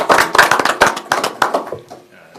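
Council meeting audience clapping for the newly introduced fire chief of the Lonsdale Fire Department, a short burst of uneven claps with voices over it, thinning out and fading by the end.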